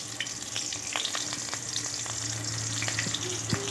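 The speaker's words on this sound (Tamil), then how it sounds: "இப்போ கட் பண்ணி வச்சுருக்க சின்ன வெங்காயம் கொஞ்சம் கோல்டன் ப்ரௌன் ஆகட்டும்." Shallots fry in hot oil with mustard seeds and urad dal for bottle gourd kadaisal, giving a steady, close sizzle with scattered sharp crackles and pops throughout, with no talking.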